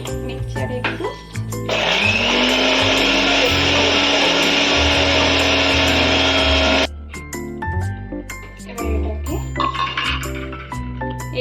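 Mixer grinder blending lemon juice, salt and other ingredients into a paste, a loud steady whirring roar for about five seconds that then cuts off abruptly, with clinks and someone talking before and after.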